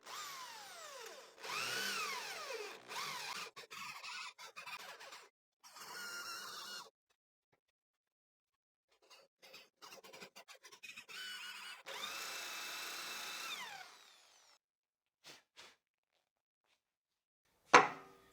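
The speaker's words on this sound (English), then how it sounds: "I'll position the bit exactly on the mark and start drilling." A power drill whirs into wood in several short and longer bursts, with pauses between runs and a sharp clack at the end.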